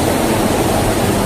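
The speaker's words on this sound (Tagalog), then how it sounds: "maririnig mo yung ilog" River flowing below an abandoned house, a loud, steady broadband rush of water with no pauses and no voices.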